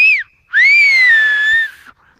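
Finger whistling, the tongue shifting inside the mouth so the pitch moves: a short rising-falling whistle, a pause, then a long loud whistle that slowly sinks in pitch before cutting off, close and alone.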